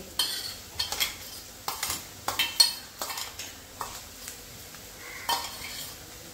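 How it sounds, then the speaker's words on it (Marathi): Chilli-garlic paste and onions being sautéed in a pan for drumstick-leaf curry, a spatula scraping and clinking against the metal in irregular strokes over a faint sizzle, close and fairly quiet. "हे पण चांगलं परतून घ्यायचं आहे कांद्याबरोबर"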